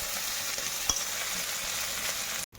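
Bitter gourd frying with ginger paste in an iron wok gives a steady, close hiss of sizzling oil, with a faint stirring scrape partway through and a brief drop near the end.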